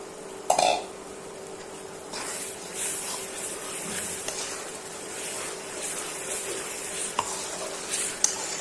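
Spice paste with peeled garlic cloves fries in a pan for chepa shutki bhorta, a steady hissing sizzle broken by occasional clanks and stirring scrapes, with no talk.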